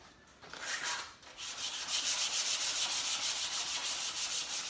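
A wooden ramp is scuffed by hand with 60 grit sandpaper, giving close, rhythmic back-and-forth rasping strokes that start softly and build into a steady scrubbing.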